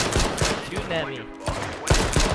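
Gunfire in the battle royale game H1Z1 King of the Kill, with rapid cracking shots in short bursts at the start and end, separated by a brief pause and some voiced sound.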